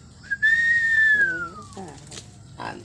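A single clear whistled tone held for about a second and sliding slowly downward, followed by brief voices and some faint background noise.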